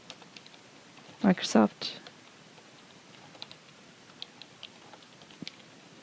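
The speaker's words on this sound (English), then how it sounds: "just go back to your browser and type in" Keystrokes on a computer keyboard as a web address is typed on a PC, a few light scattered clicks under a short burst of nearby speech in a quiet room.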